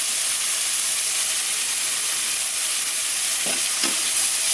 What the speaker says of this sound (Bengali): এটা একটা নাড়া দিয়ে নিলাম